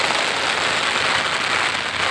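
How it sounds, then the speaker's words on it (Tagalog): Heavy rain pours steadily near the Pasig River, a dense, even hiss of drops drumming on surfaces, loud and close, with no pauses or voices. "Ayan, lumalakas na naman yung ulan."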